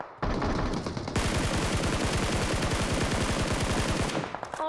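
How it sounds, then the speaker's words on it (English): Automatic gunfire in the mobile battle royale game PUBG Mobile: a dense, rapid rattling burst of shots sustained for several seconds, loud and close, with no talking over it. "He's shooting at me."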